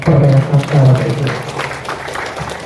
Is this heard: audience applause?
yes